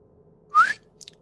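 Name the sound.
person whistling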